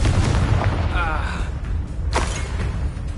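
Heavy booming blast of the Confringo fire spell in the Hogwarts Legacy video game, a deep rumbling explosion that swells and rolls on for several seconds, loud and close, with voices speaking over it.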